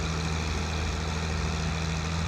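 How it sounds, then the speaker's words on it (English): A low, steady tractor engine idling in Farming Simulator 22, a constant rumbling drone with an even hum and no talk. "that must be the tractor"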